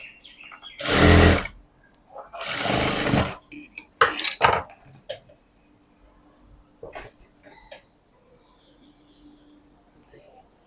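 A sewing machine stitches a blouse in two short, loud runs, followed by a scatter of small clicks and handling noises from the fabric and machine.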